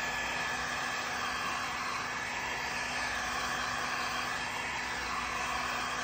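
A heat gun blows steadily on calendared vinyl, giving a constant, fairly loud whooshing hiss of hot air with a faint underlying hum, with no talking.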